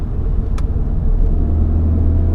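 A 2016 Volkswagen Golf GTI Clubsport accelerates and changes lanes on a wet road, heard from inside as a loud, steady low engine drone and road rumble with a brief faint click near the start.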